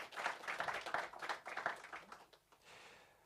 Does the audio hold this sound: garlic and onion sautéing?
no